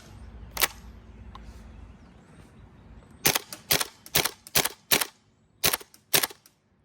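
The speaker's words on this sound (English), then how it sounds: "So let's start our first fire test." A gas blowback FAMAS airsoft rifle fires BBs in semi-auto: one sharp crack, then after a pause a quick run of seven loud, close snapping shots in uneven rhythm.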